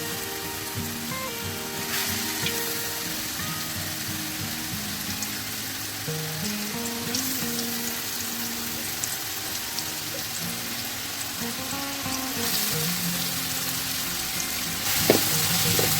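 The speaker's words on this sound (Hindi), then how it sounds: "आधी गाजर सिर्फ हम इसमें जो है हल्का सा इसको ऑयल में तलेंगे" Chopped carrots frying in a cup of oil in a pot, a dense continuous sizzle and crackle throughout, steady and close, with faint clinks of stirring and no talking.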